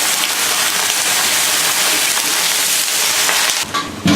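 Bok choy hits a hot wok of oil, garlic and salt and sets off a loud, steady, close hiss of sizzling that runs throughout. The sizzle shifts slightly near the end.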